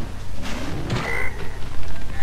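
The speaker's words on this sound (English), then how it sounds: "Yes, I'm killing innocent frogs" Frogs croak in the video game Spyro 2: Ripto's Rage, a loud, dense burst of throaty croaking with some higher chirps, heard alone and close.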